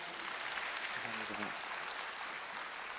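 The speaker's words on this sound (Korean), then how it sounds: "두 번째 강연을 해주신 우리 고일의 대표님께 여러분 다시 한번 큰 박수 부탁드리겠습니다." Constant broadband applause from a conference audience honoring a speaker at a Korean business leadership conference, steady and sustained, with a brief voice rising faintly beneath the clapping midway.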